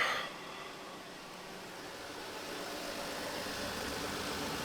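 A car engine idles steadily while the AC compressor clutch spins and stays engaged after a replacement, giving a low, even mechanical hum with a faint hiss and a slight rise in level at the very start, with no voices.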